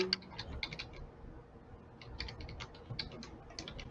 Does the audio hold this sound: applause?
no